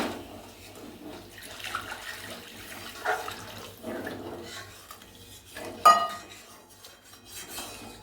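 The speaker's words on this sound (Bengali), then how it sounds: "কড়াইয়ের মধ্যে যে মশলাটা আছে সেটাই আমরা গরম জলটা দিয়ে পুরো কাটিয়ে নিচ্ছি" Hot water splashed into a wok to rinse out leftover spice, with swirling water, metal clinks and a sharp knock against the pan, moderately close.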